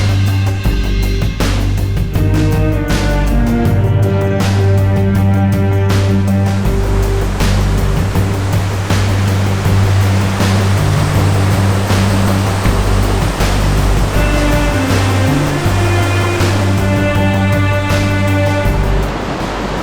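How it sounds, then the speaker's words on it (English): High, fast water rushes through Boulder Canyon Creek in a steady, loud roar, broad and continuous with no pauses and no voices. "Right now the water is super high."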